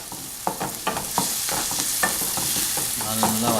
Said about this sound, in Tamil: நல்லா வதக்கும் வெங்காயத்தை.